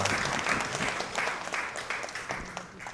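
A church congregation claps steadily during a Sunday service, a warm, sustained round of applause with no voices standing out.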